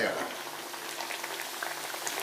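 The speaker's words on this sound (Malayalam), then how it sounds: "എണ്ണ ചൂടാണ്, നല്ല ചൂടാണ്. നമ്മൾ തീ സിമ്മിലും ആക്കിയിരിക്കുക. നല്ല ക്രിസ്പി ആയിട്ട് വറുത്തെടുക്കുക." Potato and chickpea snacks deep-fry in hot oil, a dense, continuous bubbling sizzle that stays loud and close for the whole short stretch.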